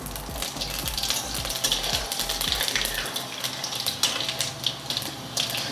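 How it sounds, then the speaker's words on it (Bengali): Panch phoron spices hit hot oil in a wok with a close, crackling sizzle, dense at first with rapid pops, then settling into a steadier hiss. "কড়াইয়ে দিয়ে দিচ্ছি আমি 5 ফোড়ন"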